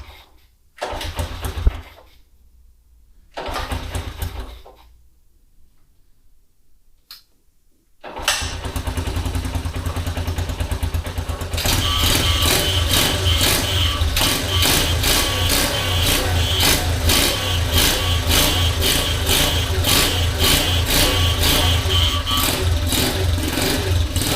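A Honda CT110 motorcycle with its airbox removed starts after a couple of cranking attempts and settles into a steady, loud, close idle with a raw intake note, running alone.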